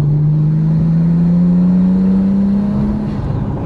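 A Nissan Skyline GT-R with a turbocharged engine drones steadily and loudly, its pitch climbing slowly as it revs under load for several seconds, then easing off near the end.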